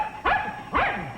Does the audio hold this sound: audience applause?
no